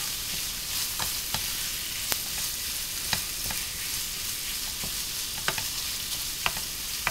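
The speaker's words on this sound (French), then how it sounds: "on va pas cuire non plus trop fort la viande, on va venir bien la saisir" Meat for a bolognese sauce sizzles steadily in a hot pan, a constant hiss broken by scattered pops and crackles, close by with no talking.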